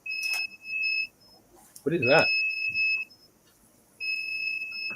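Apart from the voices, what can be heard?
battery backup unit beeping alarm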